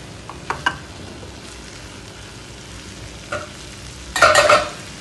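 Potato and cauliflower stirred in a frying pan for a Jain-style mixed vegetable dish, with a few light scrapes, a soft sizzle and then a loud, close burst of stirring near the end.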